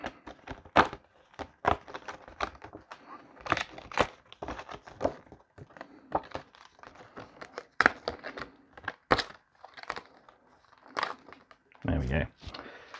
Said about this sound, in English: we got the rest of our terrain cards to punch out.